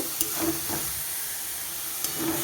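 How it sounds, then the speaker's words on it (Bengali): Banana flower being sautéed with spices in a pan gives a soft, continuous sizzle and hiss, with a few light scrapes and clinks of stirring close by and no talking. "এবারে আমি সব ভালো করে মিশিয়ে নিয়ে কষিয়ে ভালো করে যতক্ষণ না গন্ধটা যায় মশলা, ততক্ষণ আমি কষিয়ে যাব"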